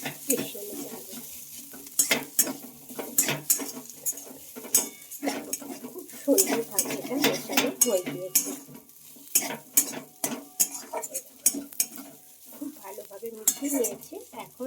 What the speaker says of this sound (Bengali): আলুটা এখানে মাখিয়ে দিচ্ছি খুব ভালোভাবে